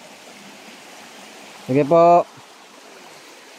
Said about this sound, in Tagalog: Malakas na yung tubig ngayon, no?